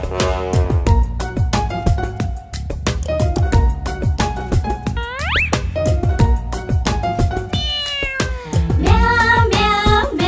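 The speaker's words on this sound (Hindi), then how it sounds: "बिल्ली करती म्याऊ म्याऊ" A sung children's rhyme with catchy musical backing, in which a cat's meowing is heard as repeated melodic meow calls, some gliding upward, clear and prominent over the rhythmic accompaniment.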